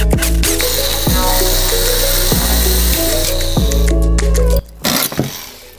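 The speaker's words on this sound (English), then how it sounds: "this tile was not coming down without a fight and my multi-tool was not on my side this day" An oscillating multi-tool buzzes loudly and steadily against stubborn kitchen wall tile, with repeated stops and restarts in a rough rhythm before cutting off near the end.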